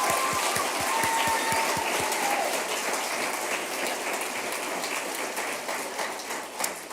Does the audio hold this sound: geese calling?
no